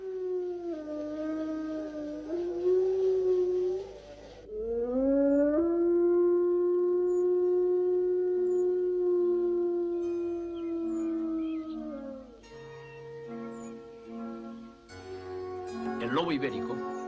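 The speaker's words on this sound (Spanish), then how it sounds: "no dejen de escucharse los hermosos aullidos del lobo" Iberian wolves howl in long, wavering drawn-out calls, several voices overlapping and rising and falling, fairly close and clear, with a brief yipping burst near the end.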